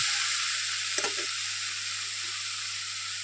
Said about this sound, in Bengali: একটু নাড়াচাড়া দিয়ে মিশিয়ে নিই।